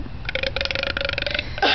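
A loud, drawn-out human belch, rough and rumbling, lasting over a second with a sharp vocal burst at the end.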